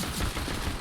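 Rapid gunfire in a Counter-Strike match, a short dense burst of shots crackling for under a second with no talk over it.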